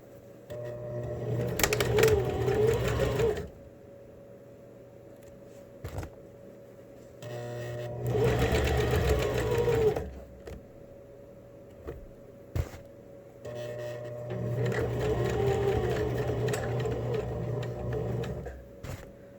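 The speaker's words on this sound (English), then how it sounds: "I'm going to make a parallel line of stitching next to it to help add some reinforcement." A sewing machine stitching a face mask runs in three long whirring bursts of several seconds each, steady and close, separated by quiet pauses with small clicks.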